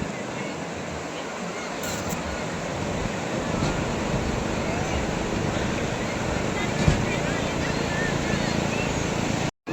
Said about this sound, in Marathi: समुद्राच्या ज्या लाटा येतात झुलझुल असा लाटा करत येतात